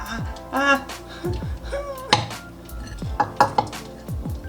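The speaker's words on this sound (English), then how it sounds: "Now we're just gonna stir fry everything, including the rice, but not the lentils." Rice stir-fried in a hot pan with sesame oil and garlic, a spatula scraping and clanking against the metal in irregular strokes, close and fairly loud with faint sizzling underneath.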